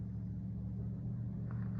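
Steady low engine rumble of a car approaching up a track on public land, heard from a distance as a continuous hum without a break.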